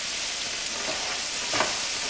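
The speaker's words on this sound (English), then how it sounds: "you just want to keep stirring these around until the onion goes clear" Onions for risotto fry and get stirred around a pan, making a loud, continuous close sizzle with a brief scrape of stirring near the end and no voices over it.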